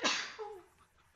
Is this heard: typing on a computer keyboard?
no